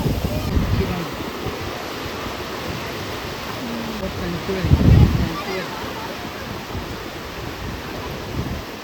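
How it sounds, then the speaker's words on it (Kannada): Water thunders down Gokak Falls as a constant broad roar, heard from a distance and buffeted by wind, with a heavier gust of noise midway and people talking nearby. "ನೀರು ಬೀಳೋದು"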